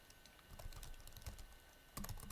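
A router OSPF command is typed on a computer keyboard in quick, light clicking keystrokes, close and clear, ending in a slightly firmer final press.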